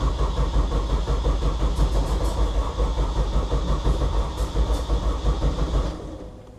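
A Honda K20 engine fitted in a Peugeot 205 cranks and runs as a loud, close, continuous rough drone that holds steady for several seconds, then drops away near the end.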